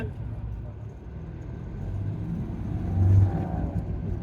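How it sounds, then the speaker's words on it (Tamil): A steady, muffled engine drone heard from inside a moving Mahindra Bolero SUV on an open road, swelling briefly louder as revs rise, then settling back. "இன்ஜின் நாய்ஸ் நமக்கு ஹையர் ஆர்பிஎம்ஸ் போகிறப்ப மட்டும் மைல்டாக கேட்குது"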